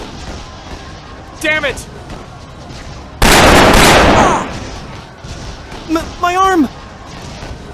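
Volleys of gunfire erupt in an anime fan dub, a dense burst of rapid shots lasting a couple of seconds between shouted lines of dialogue.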